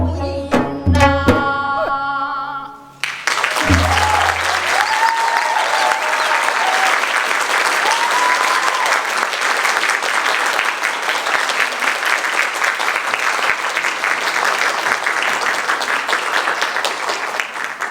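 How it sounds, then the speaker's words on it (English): Audience at a Korea Corner grand opening breaks into loud, sustained clapping after a performance, steady and dense for many seconds following a brief sung ending. "Please give once again a round of applause."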